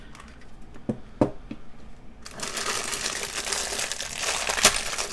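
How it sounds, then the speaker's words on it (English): Plastic packaging of a ditch light mounting kit being torn open and crinkled, a few sharp handling clicks first, then a loud continuous rustling crackle close by. "So we're gonna open the packaging and see what we get here."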